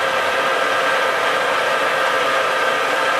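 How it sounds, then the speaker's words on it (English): Lathe running with a steady, loud broadband whir, continuous and unchanging throughout. "we'll just start the lathe"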